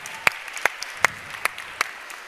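Sparse, sharp claps ring out one at a time for a DJ at a women-in-tech gathering, about six spaced hand claps over quiet room tone rather than full applause.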